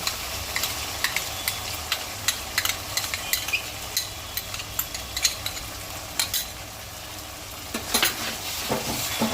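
Onion paste sizzles in a pan for a chicken dish while a utensil stirs it, giving sharp, repeated scraping strokes over a steady frying hiss, close and fairly quiet.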